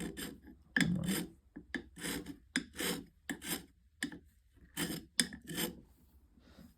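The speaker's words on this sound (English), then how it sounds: "I have this carbide scraper, and that may or may not do something." A carbide scraper is drawn across wood in a series of short, rough rasping strokes, about a dozen uneven scrapes with brief pauses between, close and fairly quiet.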